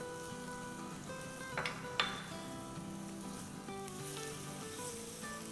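Chopped onion sautéing lightly in a pan for an aloo laccha bread filling, a soft steady sizzle with a couple of brief stirring scrapes, close and alone under faint background music.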